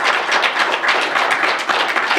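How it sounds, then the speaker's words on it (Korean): Church congregation clapping during a revival service, a dense, loud and continuous round of applause with fast irregular claps throughout. "박수 한 번 더 하겠습니다."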